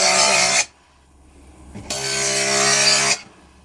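A power tool grinds burrs off the edges of glass panes for a terrarium, two loud, harsh abrasive bursts separated by a brief near-silent pause, with no talking.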